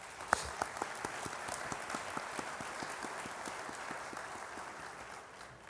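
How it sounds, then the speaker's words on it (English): A small audience at a violence prevention summit gives a round of applause for the staff, with sparse, fairly quiet clapping and a few distinct sharp claps standing out at a steady rhythm. "can we please give them a round of applause?"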